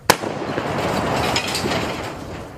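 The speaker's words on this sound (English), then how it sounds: "M44 with the muzzle brake, so it's kind of nice to fire now" An M44 rifle fitted with a muzzle brake fires a single close, loud shot at old shoes, giving one sharp blast followed by a broad, noisy echo and debris rush that lingers to the end.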